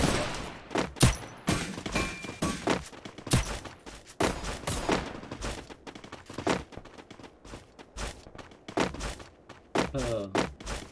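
UMP submachine gun fire in the Free Fire battle royale game, short sharp bursts repeating in quick clusters with thuds between them, loud and close, and a voice occasionally audible.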